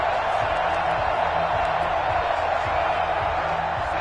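Steady stadium crowd roar from a Madden football game, a constant wash of cheering noise with no distinct breaks, sitting under the game's audio.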